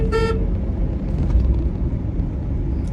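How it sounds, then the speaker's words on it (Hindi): Busy road traffic with a car horn: one short toot near the start over a steady, dense rumble of passing vehicles. "आज ट्रैफिक बहुत है, बहुत है।"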